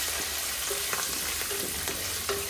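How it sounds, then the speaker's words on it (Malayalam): Curry leaves sizzle steadily in hot oil in a pan of fried chicken curry, making a bright continuous hiss with a few faint stirring clinks, with no talking. "നമ്മുടെ കറിവേപ്പിലയും കൂടി നമുക്ക് ഇതിലേക്ക് ഇട്ട് കൊടുക്കാം"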